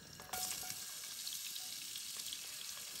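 Mushrooms and onion frying in a pan at a rainy woodland truck campsite, a steady bright sizzle running throughout after a brief clatter at the start, close and fairly loud with no talk.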